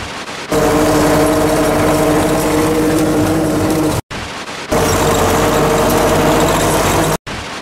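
Loud tractor engine running steadily on a trip to the woods, a droning motor hum with harmonic whine, cut by brief dropouts, no voices.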